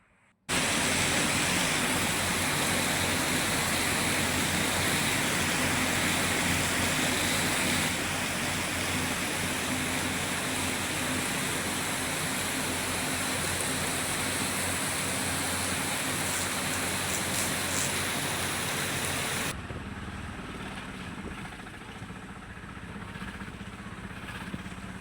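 Heavy rain pours steadily near Kollur, a dense, loud wash of falling water that continues without a break and softens slightly toward the end.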